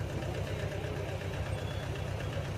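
A low, rumbling tractor engine idles steadily nearby at a tomato market in Pandhurli, with a rhythmic knocking pulse, no voices.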